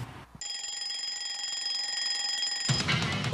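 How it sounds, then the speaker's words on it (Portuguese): A wheeled runaway alarm clock rings with a steady, high electronic beeping tone that holds for about two seconds and then cuts off into rustling noise. "um despertador que a gente tem que correr atrás dele para parar"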